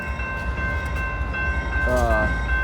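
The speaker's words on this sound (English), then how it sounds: "I'll let you look at the train. This is gonna be a long train." A long freight train hauled by six engines rolls past, a steady low rumble filling the whole stretch with a brief tonal horn-like wail partway through.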